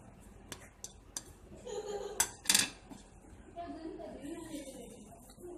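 Cabbage, onion, spices, chillies and mint being stirred together in a bowl for cabbage pakoras, with scattered utensil clinks and scraping against the bowl and a bright rattle near the middle, under a faint voice.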